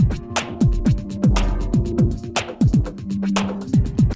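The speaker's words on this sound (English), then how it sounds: "So it's kind of a nice ambient techno groove." A looping ambient techno groove with punchy kick drums, crisp hi-hats and a low sustained synth tone, steady mid-tempo rhythm, played alone.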